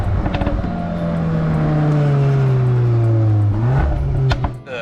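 A 2022 Volkswagen Golf R in race mode revs hard, its exhaust holding a loud, droning engine note that sags slightly and then climbs again, with a brief whir and settling toward the end.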